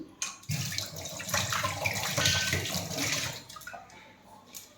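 Tap water runs steadily into a kitchen sink while lentils are rinsed by hand for dal, a close, splashing wash that swells and then tapers off.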